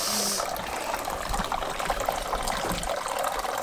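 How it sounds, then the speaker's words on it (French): Water from a pet fountain trickles steadily over pebbles, a soft continuous burble heard close up with no voices. "Ce que vous entendez, c'est la fontaine."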